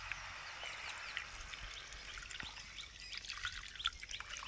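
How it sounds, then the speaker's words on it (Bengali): Hot water is poured into a pot of chicken and potato curry, a faint, steady trickle and splash heard from close by, with light chirping in the background. "জলটা দিয়ে দেব।"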